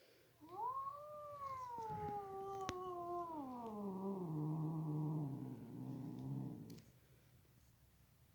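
An aggressive cat lets out one long, drawn-out growling yowl that slowly falls in pitch and rumbles lower near the end, close and fairly loud, followed by quiet.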